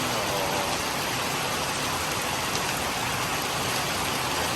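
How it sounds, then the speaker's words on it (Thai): Evening rain falls steadily beside a road, a dense, even hiss of drops on surfaces with a faint engine murmur underneath, continuous and unchanging. "พาทุกท่านมาชมบรรยากาศฝนตกยามเย็นหลังเลิกงานกันครับ"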